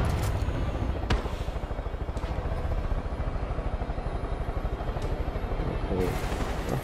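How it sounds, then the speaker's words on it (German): A helicopter in the video game Far Cry 5 thumps with a steady, fast rotor chop under a droning engine, loud and continuous, with a few sharp clatters and bangs breaking through. "Hubschrauber."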